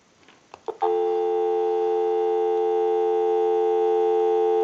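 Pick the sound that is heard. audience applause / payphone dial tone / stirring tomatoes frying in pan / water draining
payphone dial tone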